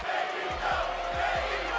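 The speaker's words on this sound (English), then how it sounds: "Boring chants rang out as the wrestlers struggled to win over the crowd." A WWE arena crowd in Tacoma chants "boring" at the wrestlers in the ring, a steady roar of many voices with rhythmic low thumps of stomping or clapping running under it.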